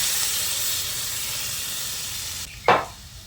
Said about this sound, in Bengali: এবার আমি বাকি যে এঁচোড় সেদ্ধ জলটা ছিল সেটা এর মধ্যে দিয়ে দিচ্ছি